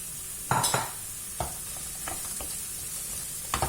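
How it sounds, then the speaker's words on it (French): Frozen bell peppers sautéing in a pan for chicken curry, a steady sizzle broken by several sharp utensil scrapes and stirring knocks against the pan, close and clear. "Je vais faire revenir également pendant 5 minutes parce que mes poivrons ils sont congelés"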